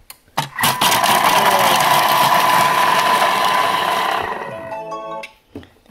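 A Thermomix TM6 blends potato soup for a few seconds at speed 5: a click, then a loud steady motor whir with churning liquid that holds for about three seconds and winds down, alone without talk.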